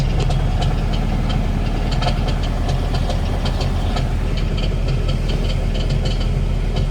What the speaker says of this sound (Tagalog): pumatok na naman yung makina.